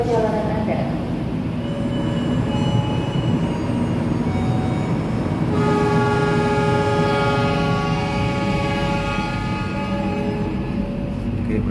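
The Kamandaka passenger train rumbles steadily as it departs, a loud continuous roar with layered mechanical hums and whines that shift partway through, heard from close by.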